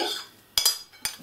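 Utensil scraping and clinking in a bowl while cake batter with green beans and dried tomatoes is mixed, two short sharp knocks over a faint background.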